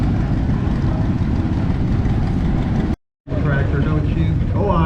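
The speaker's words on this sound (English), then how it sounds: "Chase is operating his 1953 John Deere Model 60." A 1953 John Deere Model 60 two-cylinder gas tractor runs steadily in a parade at an Oklahoma steam and gas engine show, its loud continuous rumble broken by one brief dropout before resuming with voices mixed in.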